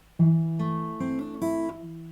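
Fingerstyle guitar playing a pattern from Final Fantasy X: four clear plucked notes, one each on the fourth, third, second and first strings, rising in turn and ringing close and alone.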